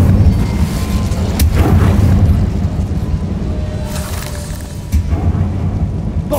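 Fire spell cast in Hogwarts Legacy inside a catacomb, a loud roaring whoosh with deep booming rumbles that swell and fade repeatedly, dense and close throughout.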